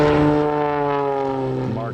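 A stunt airplane at an air show drones steadily overhead with a loud, buzzing propeller engine tone rich in harmonics, its pitch dipping slightly as it passes.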